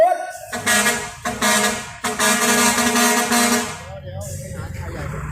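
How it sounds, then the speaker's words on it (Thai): Loud, blaring air horns of a parade truck at a Thai merit-making festival, sounding in long bursts with brief gaps, close by, with people talking underneath. "ไม่ดังเท่าไหร่ครับเสียงแตรรถแห่ครับ"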